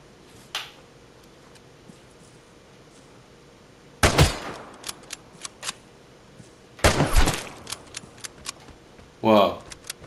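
Gunfire close by in the shooter game Vigor, heard as sharp cracks in two dense bursts followed by scattered shots, set against a quiet background with a few isolated clicks.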